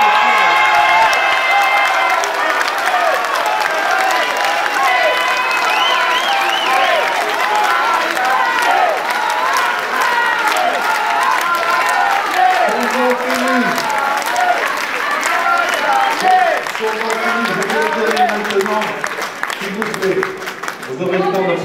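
A packed hall in Poissy erupts in sustained applause and cheering as 2001 municipal election results are read out, loud and continuous, with shouts and voices mixing into the din throughout.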